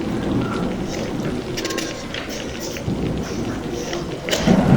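Steady rain pours down through a dark night, with thunder rumbling low underneath and a louder roll building near the end; a narrator's voice speaks faintly in the background.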